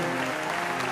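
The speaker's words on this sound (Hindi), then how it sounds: "ये जो तालियों की गड़गड़ाहट है, क्या ये आपके कान तक पहुंच रही है?" Applause from an audience at an online literary event, a dense steady wash of clapping filling the whole short moment without a break.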